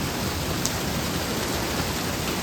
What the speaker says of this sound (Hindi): बारिश हो रही है बढ़िया वाली